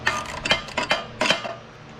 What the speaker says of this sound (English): now I've got me a little socket. We're gonna start taking some of these off.